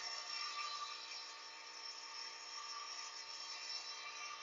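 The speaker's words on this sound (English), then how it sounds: "I'm going to do a longer burnish this time." Sycamore pen blank being burnished on a spinning lathe, a steady hissing rub with a bright, airy tone, continuous and fairly faint throughout with no pauses or talking.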